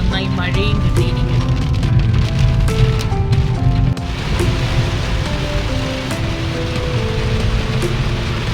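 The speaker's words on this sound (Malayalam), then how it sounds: "മൂന്നാർ വന്നപ്പോൾ നന്നായി മഴയും കിട്ടിയിരിക്കുന്നു" Steady rain falls in Munnar, a dense even hiss of drops that runs under tonal music throughout the stretch.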